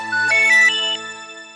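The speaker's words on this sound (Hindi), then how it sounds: "भाभी, अरे करण का फोन है।" Electronic phone ringtone for an incoming call plays alone in a domestic scene, a bright melodic chime with sustained tones lasting about a second before fading out.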